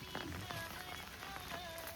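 Rain falls steadily during a village storm over a mango orchard, a dense, even hiss with scattered patters, close and continuous throughout.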